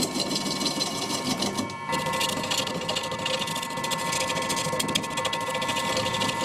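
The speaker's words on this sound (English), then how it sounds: "The motor is getting a little warm at these slow speeds." A woodturning lathe motor runs at slow speed, giving a steady rapid mechanical clatter and whir with a brief dip partway through, fairly quiet and close.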